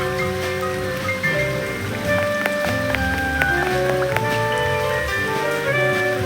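Steady rain hisses across the whole scene beneath soft, sustained musical tones, with no talking, in the video game Duck Detective: The Secret Salami.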